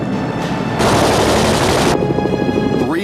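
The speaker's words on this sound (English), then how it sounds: "300 rounds from Richthofen's machine gun brings his score to the magic number of 50 victories" A World War I fighter plane's machine gun firing, with a loud sustained rattling burst of rapid shots over a droning background, cut off abruptly.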